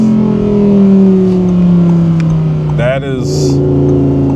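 The engine of a 2023 Audi R8 GT revs high toward 9,000 RPM, heard as a loud, steady engine drone with slowly shifting pitch from inside the car, while a brief whine rises over it near the end.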